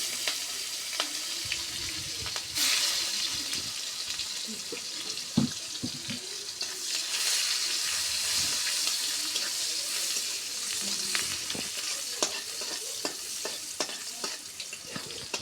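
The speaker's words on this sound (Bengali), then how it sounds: "তেজপাত দিয়ে দিলাম, পেঁয়াজ কেটে দিলাম" Bay leaf and sliced onion fry in a pan for a fish-egg and taro curry, a steady close sizzle with repeated scraping and stirring clatter throughout, no talking.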